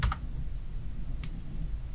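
Several crisp computer keyboard keystrokes, a quick cluster of taps at the start and one more press a moment later, heard close and alone against a quiet background.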